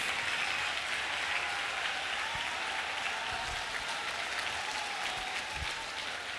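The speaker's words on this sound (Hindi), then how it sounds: "Keep clapping." Sustained, dense applause from a large student audience at a NEET toppers' talk rolls on evenly for several seconds, with a faint tonal feedback hum underneath.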